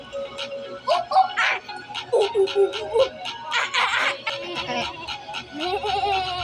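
A voice imitates a goat, giving several wavering bleats mixed with giggles and short bursts of speech nearby.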